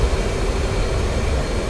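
An F/A-18C Hornet's jet engine at full throttle in DCS World during a night carrier landing, a steady, loud roar with a deep rumbling low end and no break.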